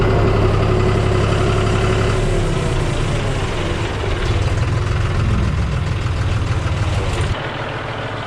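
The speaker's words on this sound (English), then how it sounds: "Might as well just take the tractor and see if we can clean the driveway up a little bit." A tractor engine runs on a rural property, a loud steady low rumble that holds for several seconds, then drops to a quieter idle near the end, with no talking.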